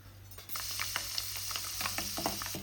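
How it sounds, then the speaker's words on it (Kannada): Cashews and almonds sizzle and crackle steadily in hot oil, a dense close frying hiss with occasional sharper pops and stirring sounds, no voices. "ಕಾಜು ಮತ್ತು ಬಾದಾಮಿ ಎರಡನ್ನೂ ಎಣ್ಣೆ ಕಾದಿದ ತಕ್ಷಣ ಹಾಕಿ ಗೋಲ್ಡನ್ ಬ್ರೌನ್ ಬರೋವರೆಗೂ ಫ್ರೈ ಮಾಡಿಕೊಂಡ್ರೆ ಸಾಕು"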